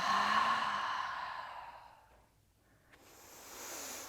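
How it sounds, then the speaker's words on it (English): A single long, breathy exhale during a yoga breathing exercise, close and audible, fading gradually into near silence before a soft breath returns at the end. "And a big cleansing exhale out"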